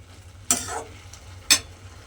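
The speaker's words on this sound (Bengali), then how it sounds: "এবার সমস্ত মশলাগুলো খুব ভালোভাবে লাউয়ের সঙ্গে মিশিয়ে একটু কষিয়ে নেব" Bottle gourd being sautéed with spices in a pan, a low sizzle with two distinct scraping stirs of a spatula, close and moderately loud, with no voices.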